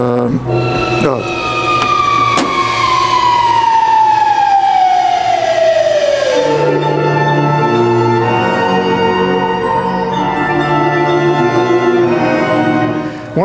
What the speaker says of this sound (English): So let me play some music for you here.